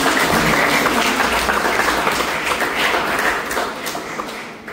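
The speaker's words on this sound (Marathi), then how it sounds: "तर त्यांच्यासाठी सुद्धा जोरदार टाळ्या." Applause from a college audience at an HIV and sexual-health awareness event greets the fourth guest, a dense, steady clatter of many hands that sounds close and full, then thins and fades slightly toward the end.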